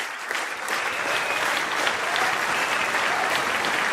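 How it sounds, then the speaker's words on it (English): Audience clapping in a dense, steady burst that holds level throughout without talk over it. "I got some clapping."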